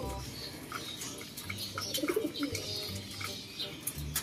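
Racing pigeons coo softly while eating and drinking, low repeated burbling calls scattered through the moment over faint background shuffling and rustle, fairly quiet and close.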